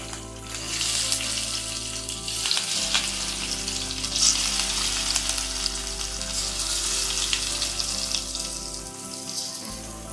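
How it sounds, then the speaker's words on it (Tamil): Hot oil sizzles and crackles steadily for several seconds, with small spattering pops as mustard seeds and curry leaves fry up close. "கடுகு நல்லா பொரிஞ்சு வந்ததும் கருவேப்பிலை சேர்த்துக்கலாம்."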